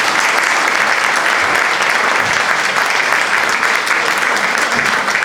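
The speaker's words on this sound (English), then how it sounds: "Let's give him a big round of applause." Loud, dense applause fills a business networking meeting room in Pleasanton for speaker Keith Robinson, an even wash of many hands clapping close by without a break.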